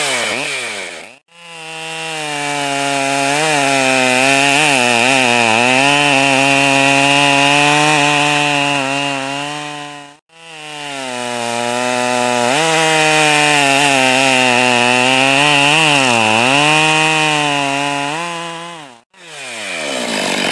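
A Husqvarna chainsaw, a stock 565 or a modified 372XP X-Torq work saw, makes timed cuts through wood. Two long full-throttle cuts are heard, each a loud, close engine whine that bogs and recovers in the log, separated by short gaps, with no talk.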